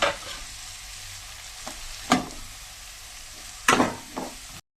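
Capsicum curry being stirred in a pan over a gas stove on low flame, with a steady soft sizzle and a few sharp scraping strokes of the spoon against the pan, close up, no talking.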